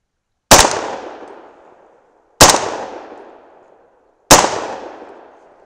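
Three loud, sharp gunshots from a 300 Blackout rifle firing subsonic powder-coated rounds, evenly spaced about two seconds apart, each with a decaying outdoor echo.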